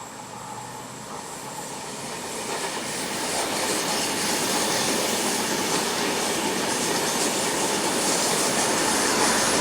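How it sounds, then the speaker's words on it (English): A southbound Pendolino ETR 485 high-speed train rushes past close by, a loud broadband roar building over a few seconds and holding steady with faint rail clatter. "this is a southbound Pendolino high-speed train set of type ETR 485"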